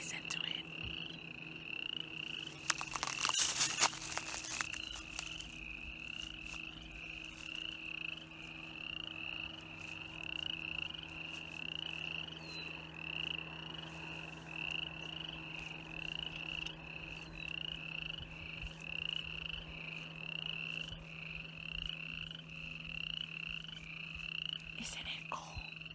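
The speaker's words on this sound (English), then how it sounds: "I think it's a frog." Frogs croak outdoors in a steady, continuous chorus with a sustained high trill running throughout, moderately loud and close, with a brief burst of louder rustling noise near the start.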